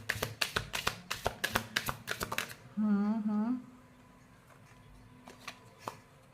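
A deck of cards is shuffled during a card reading: a rapid run of crisp riffling taps, then a brief voice and a few scattered soft taps.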